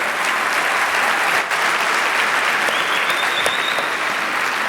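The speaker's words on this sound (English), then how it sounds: "Please give our entire staff a big round of applause for their hard work." A large audience at a county real estate event claps steadily and loudly for office staff, a dense, continuous wash of applause with a few sharper individual claps standing out.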